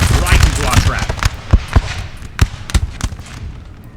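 Sharp musket volleys crack out as British lines fire on French troops in a Napoleonic war video game, a string of loud separate reports spaced irregularly over a rumbling battle bed.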